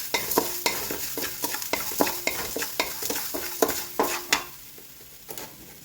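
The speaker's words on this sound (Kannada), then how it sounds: "ಮೂರು ಸ್ಪೂನ್ ಉಪ್ಪು ಹಾಕ್ತಾ ಇದ್ದೀನಿ ನಾನು ಇದೆರಡೂ ಹುರಿತೀನಿ ಚೆನ್ನಾಗಿ" Salt dry-roasting in a pan for homemade sambar powder, with a spoon scraping and clinking against the pan in a quick, regular rhythm of sharp strokes over a faint crackle, close and fairly loud.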